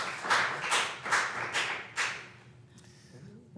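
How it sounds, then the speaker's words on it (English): Audience clapping at a city council meeting: four or five loud, sharp bursts of hand claps in quick succession, then fading to quiet room tone with a faint tone. "We're not supposed to have any clapping at council meetings, but I hear your enthusiasm."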